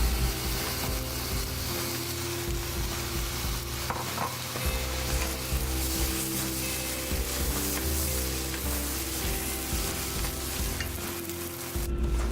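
Egg fried rice with zucchini and sausage being stir-fried in a wok, a steady loud sizzle broken by repeated scraping and tossing of the spatula, with no talking.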